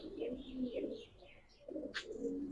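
Racer pigeons in a flock cooing softly, a steady stream of low burbling coos with a brief higher chirp near the end, faint and close, with a quiet voice now and then.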